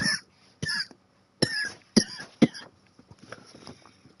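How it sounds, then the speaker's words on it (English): A person coughs in several sharp, separated bursts, a few loud single coughs followed by a cluster of softer, quicker coughs and throat clearing, close to the microphone in a quiet room. "You guys have seen me cough a little extra too."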